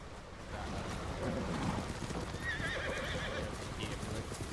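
Horse hooves clip-clop over a steady rushing background in the video game Ghost of Tsushima, with a whinny partway through; a voice murmurs underneath.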